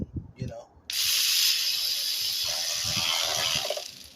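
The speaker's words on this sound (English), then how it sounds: "I'm just gonna tighten them." A ratchet tightens valve cover bolts on a 2007-2011 Toyota Camry engine, a sustained loud clicking-whirring run that begins after a brief quiet start and holds steady for about three seconds before tapering.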